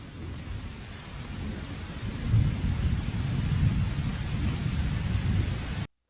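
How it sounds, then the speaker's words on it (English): Heavy cloudburst rain pouring down in a dense, constant roar with deep low rumbling, swelling slightly louder midway before cutting off abruptly. "The concentrated downpour is so thick and heavy it looks like a waterfall from the sky"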